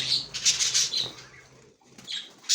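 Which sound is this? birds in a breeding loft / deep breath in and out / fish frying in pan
birds in a breeding loft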